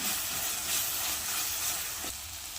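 Chili powder and salt fry in hot oil for a potato kurma, making a dense, continuous hiss and sizzle up close that holds steady throughout with no voices.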